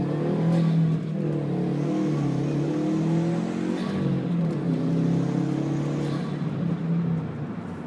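A 2011 Subaru WRX with manual transmission cruising in fifth gear gives a steady, smooth engine drone with road noise from inside the cabin, holding an even level throughout.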